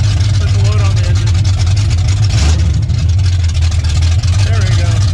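The 455 engine of an Oldsmobile Cutlass runs steadily in reverse under load, giving a loud, continuous low rumble with a throaty idle character. A person talks over the engine.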